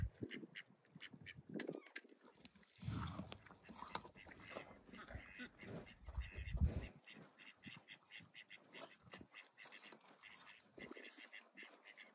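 Ducks on a ranch quack repeatedly in irregular bursts at close to moderate range, mixed with rustling, wing flaps and a person talking faintly.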